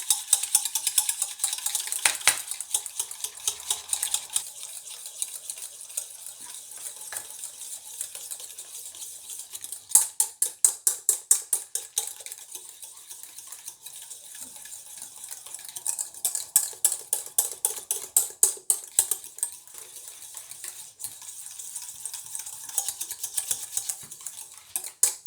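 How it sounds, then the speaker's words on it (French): Rapid metallic whisking of a freshly melted oil phase for a rose buriti day cream, a steady clatter of utensil against bowl that keeps up for most of the stretch, close by and with no talk. "Et je vais battre pendant 3 minutes."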